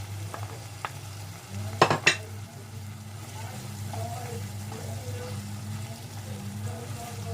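A spoon stirring vegetable curry with green chilli in a pan: soft scraping and sizzling over a low steady hum, with a couple of sharper clinks of utensil against the pan near the middle.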